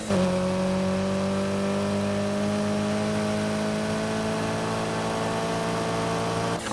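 Car engine in the racing video game Need for Speed: Heat, holding a loud, steady drone with a slowly rising pitch throughout, close and continuous with no talk over it.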